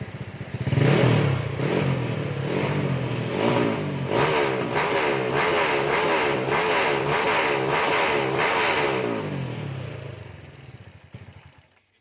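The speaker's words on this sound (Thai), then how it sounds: "อันนี้คือรถที่จูนเข้าที่แล้วนะครับ" Tuned race engine revving hard, the throttle blipped repeatedly in rising and falling surges with a clattering edge, loud and close before dying away at the end.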